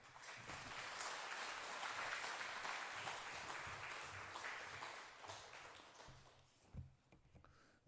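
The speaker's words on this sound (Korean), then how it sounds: "강사님 나오실 때 하나님 감사하는 마음으로 큰 박수로 환영하겠습니다." A church congregation at a Sunday service claps warmly to welcome a guest preacher, sustained broadband applause at a fairly faint, distant level that tapers off near the end.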